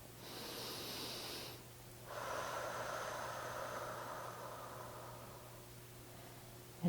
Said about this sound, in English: So let's take another nice deep breath.